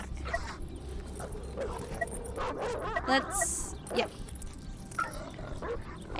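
Dogs in the horror video game Bunny Hill Horror bark, yip and whimper in scattered bursts, some near and some farther off, under a short spoken word.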